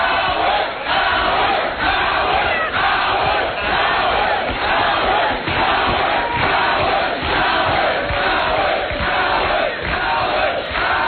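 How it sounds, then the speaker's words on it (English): An angry crowd at a libertarian political gathering shouts and roars continuously in loud, surging waves that stay dense and unbroken for about eleven seconds. "the crowd visibly angered"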